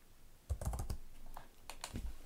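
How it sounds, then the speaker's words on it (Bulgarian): Keys clatter on a computer keyboard in two quick bursts of typing, a search query entered into a search bar, close and fairly quiet with a pause between the bursts. "За целта трябва да пишем в търсачката Animal Facts."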